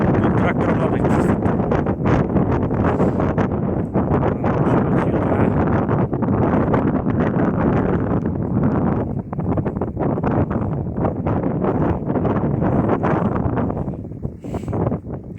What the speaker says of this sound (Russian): Ветрище капец.